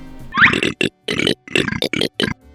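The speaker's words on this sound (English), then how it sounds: "This burp thing that I did was especially interesting because I did this in FL Studio." A burp built from chopped and edited voice recordings in FL Studio, heard as a choppy series of short, loud, gurgling belch bursts, about seven segments separated by abrupt silences.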